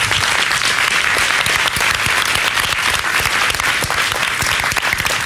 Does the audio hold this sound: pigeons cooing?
no